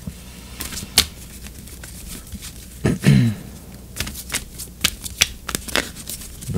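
Oracle cards being shuffled by hand for a card reading, a run of soft riffling and brisk flicking taps up close, with a fuller burst of shuffling about midway and no voices.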